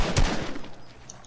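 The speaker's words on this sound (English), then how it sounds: "a person shooting at me" Gunfire in a shooter video game: a sharp burst of shots opens loudly, then trails off into a fading rumble and echo over about a second.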